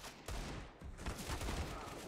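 Gunfire in a Counter-Strike: Global Offensive match on Dust2, a rapid flurry of shots in the middle distance under the steady noise of the match.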